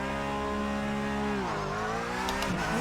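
A Porsche 911 GT3 Cup race car in the iRacing game holds its engine at high revs before launch, a loud, steady tonal whine that dips, climbs and wavers, close and alone.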